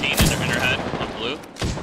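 Single-fire weapon shots in the shooter game Apex Legends, a few sharp close cracks spaced across the moment, with a busy mix of game effects between them and no talking.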